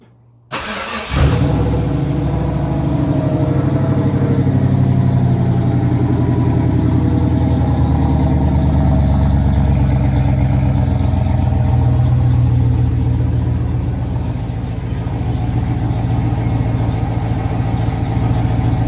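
A Ford 302 V8 paired with a 6R80 transmission cranks briefly, catches and settles into a loud, steady idle close by, running on alone with a slight rough rumble.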